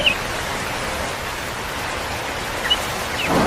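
Steady broadband rain hiss in a cartoon scene, a continuous even wash of falling rain with no talking, holding at a constant moderate level throughout.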